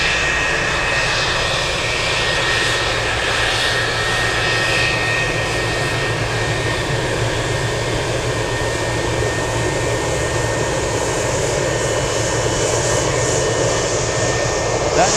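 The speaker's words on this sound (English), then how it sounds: "That is a DC-10, ladies and gents." A DC-10 jet at Anchorage airport roars with a loud, steady, continuous engine drone that fills the scene, with voices faintly underneath.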